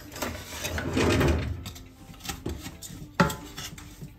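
Close, irregular scraping and clinking of a utensil against a pan while stirring brown sugar and coconut milk into thickening latik, a few sharper knocks standing out, with no speech.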